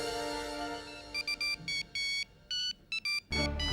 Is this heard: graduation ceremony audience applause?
no